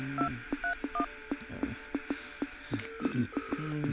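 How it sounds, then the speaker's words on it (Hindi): A telephone is dialed: a rapid run of short touch-tone beeps and clicks in an irregular rhythm, close and moderately loud, with no talking. "फोन लगा उसे।"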